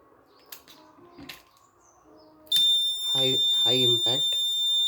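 A pressure-sensor vehicle impact monitoring system sets off its alarm after a high-impact hit: a quiet stretch with faint clicks, then a sudden steady high-pitched electronic tone and a run of pulsing, buzzy bursts.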